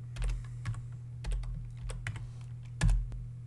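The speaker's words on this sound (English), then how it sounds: "we're going to type out the command move" Keys on a computer keyboard click in quick bursts as a command is typed, crisp and close with uneven spacing, no voices.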